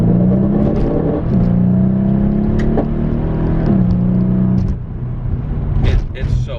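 A 2015 Mercedes E63 S AMG engine revving hard at full throttle, pitch climbing through several gear shifts, loud and close, with a voice talking over it near the end.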